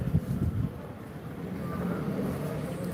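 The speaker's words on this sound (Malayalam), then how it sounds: "നല്ല കാറ്റ് കേട്ടോ നല്ല തണുത്ത കാറ്റ്" Low, rumbling cool wind buffets the microphone in steady gusts at Triprayar Temple, a soft continuous roar with no voices.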